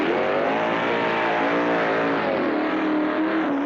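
Heavily modified tractor-pull engine revving at a sustained high pitch while dragging a weight-transfer sled that builds to 50,000 pounds, loud and close, with a strained steady roar and slight pitch wavering throughout, no voices.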